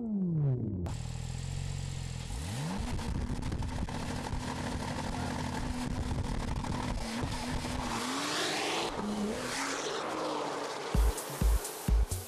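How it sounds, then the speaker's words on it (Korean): A supercar engine roars loudly up close, its exhaust note climbing in pitch as it revs and accelerates, ending with a few sharp bursts. "운전자는 배기음을 통해 슈퍼카의 성능을 귀로 먼저 느끼게 된다."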